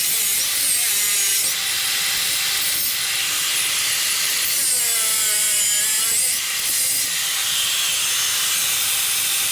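A bolt is sawed through with steady back-and-forth metal-cutting strokes, a bright hissing rasp, close and continuous, with no talk.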